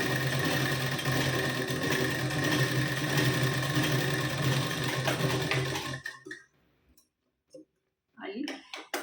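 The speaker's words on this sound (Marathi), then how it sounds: "पुन्हा फिरवून घ्यायचं, पुन्हा त्याच टक्सवर शिलाई." A sewing machine runs in a fast, steady, close whir while stitching a tuck on a blouse. It then stops abruptly into near silence, with a few light handling sounds and a short voice near the end.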